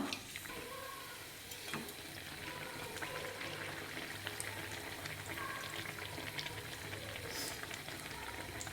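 Egg pantua sweets frying in oil, a steady soft sizzle and crackle with scattered pops throughout, fairly quiet and uninterrupted.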